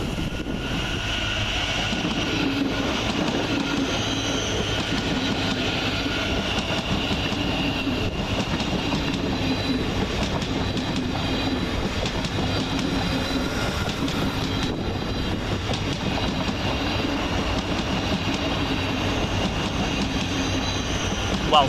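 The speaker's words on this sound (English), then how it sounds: "Next out is 700-117, departing with the 1424 via Thameslink service to Horsham via London St Pancras International" A Class 700 Thameslink train pulls out of Peterborough station with a steady loud rumble and rolling wheel noise throughout, a continuous close drone with no break.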